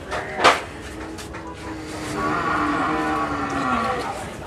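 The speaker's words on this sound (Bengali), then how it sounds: "দেখুন জাফরাবাদী মহিষ," A Jafarabadi buffalo lows at a busy cattle market, with a long, drawn-out moo rising and falling over general crowd and yard noise, preceded by a few short knocks.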